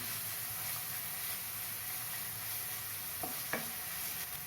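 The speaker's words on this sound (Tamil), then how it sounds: "3 பச்சை மிளகாய் கீறி வச்சுருக்கேன், அதையும் சேர்த்து வதக்கலாம்" Slit green chillies sautéing in a pan for a spicy egg capsicum masala make a faint, even sizzle and hiss close by, with a couple of brief knocks near the end and no talk.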